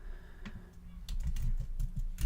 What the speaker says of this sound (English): I'm going to start typing it in.